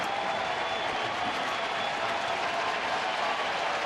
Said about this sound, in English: No wonder this crowd is on its feet.